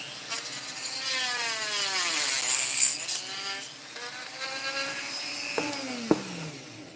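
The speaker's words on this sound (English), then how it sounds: "the terrifying tool I'm using is a Dremel with a saw blade attached" A Dremel rotary tool fitted with a small saw blade cuts into a Panthor figure, making a close, buzzing whine whose pitch sweeps and wavers as the blade loads and frees, easing off toward the end with a couple of sharp knocks.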